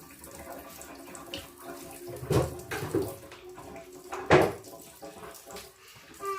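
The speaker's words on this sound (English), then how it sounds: "So that is the hot water, I believe." Hot water runs from a tap in a house under renovation in Bulgaria, a steady splashing stream with a few louder gushes and knocks as the flow changes.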